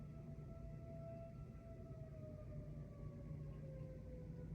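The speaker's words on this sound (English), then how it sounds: "Hear that siren?" A faint distant siren wails with a slowly falling pitch over a low steady rumble of background noise, continuing throughout.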